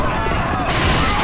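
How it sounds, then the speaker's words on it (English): A Molotov is thrown in Left 4 Dead. A loud, dense burst of crackling, roaring noise fills the whole moment, with a sharp rise in brightness partway through. "Throwing a Molotov."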